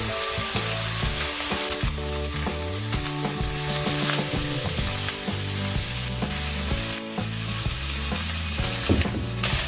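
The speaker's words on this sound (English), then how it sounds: "Next, you put in 3 tablespoons of soy sauce." Crab fried rice sizzles loudly in the pan as soy sauce is stirred through, with constant hissing and repeated scraping and clatter from the stirring.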